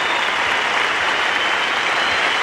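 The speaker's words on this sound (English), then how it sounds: "And the whole crowd rises now to Greg Chappell" A cricket crowd gives Greg Chappell a standing ovation, a dense, steady wash of applause that sustains evenly at full strength from start to finish.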